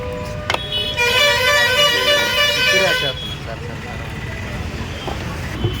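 On a busy street, buses and cars honk: a sharp toot, then a long sustained loud horn blast, followed by steady engine and traffic noise.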